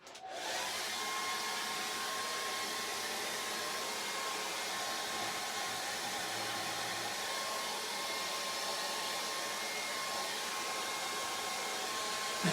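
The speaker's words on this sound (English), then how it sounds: "give me a hairdryer." A hair dryer starts abruptly and blows with a steady, loud, whooshing roar for several seconds without pause.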